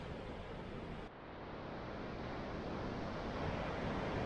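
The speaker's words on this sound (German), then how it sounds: "Es ist ziemlich spektakulär da mit den Wellen" Ocean surf on a Spanish or Portuguese coast, a constant rushing wash of breaking waves mixed with wind noise, a brief dip early on and then a swelling, steady roar, with no talking.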